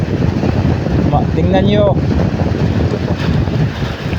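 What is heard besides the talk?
strong wind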